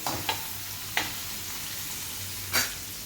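Capsicum frying with salt in a pan, giving a steady soft sizzle with three brief scraping clinks as it is stirred, heard alone.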